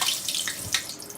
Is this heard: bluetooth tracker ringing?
no